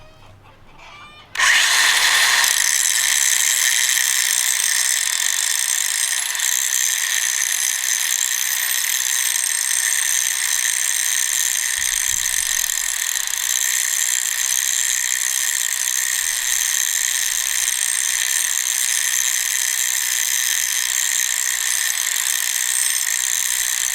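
A farm grinder starts abruptly after a brief quiet moment, then runs loud and steady with a dense mechanical whir and rattle close by for the rest of the stretch.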